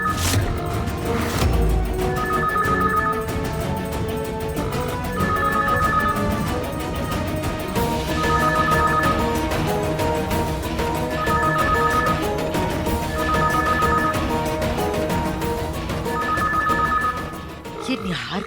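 A telephone rings in a repeating two-tone electronic pattern at steady intervals, loud over background music, while people talk.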